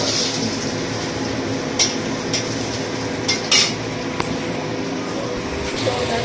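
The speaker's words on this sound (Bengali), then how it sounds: "তো এদিকে পটল ভাজা হচ্ছে" Pointed gourd (potol) slices frying in a pan, a dense, steady close sizzle with a few sharp utensil clinks and scrapes against the pan scattered through.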